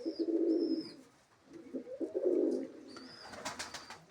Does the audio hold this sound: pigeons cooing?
yes